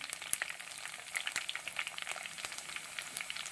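Fifteen cloves of chopped garlic frying in a pan for a Kerala sardine dish, a soft steady sizzle with scattered faint crackles and pops, fairly quiet and with no voices.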